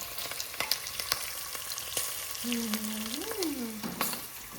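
Spices sizzling and crackling in hot oil for a tempering, sharp pops scattered over a steady fry, with a brief tonal whine rising and falling partway through.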